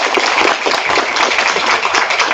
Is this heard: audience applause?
yes